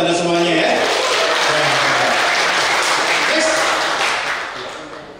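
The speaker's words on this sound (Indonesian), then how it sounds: "Aplaus dong buat Anda semuanya ya." An audience at a business seminar breaks into sustained, dense applause that holds strong and then tapers off near the end, with a voice speaking over the clapping.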